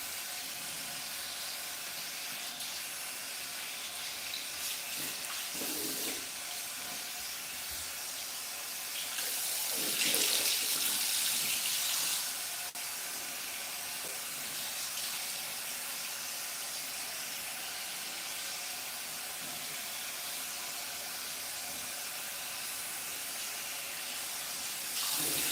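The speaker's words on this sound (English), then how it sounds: "I literally need to stick my head back under the faucet to get it wet enough" Tap water runs steadily from a faucet while hair is wetted under it, a continuous close hiss and splash that swells briefly partway through, with no talking.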